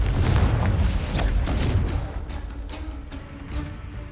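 In the game Hogwarts Legacy, a Confringo blasting spell explodes with a heavy booming rumble that surges and then decays into a fading tail, with faint clicks in the aftermath.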